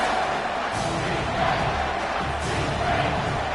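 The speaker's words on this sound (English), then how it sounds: "This crowd rising up, sensing that its defense needs some help." A football stadium crowd roars steadily during a Vols game, a dense, loud wash of cheering and yelling that holds at full volume throughout.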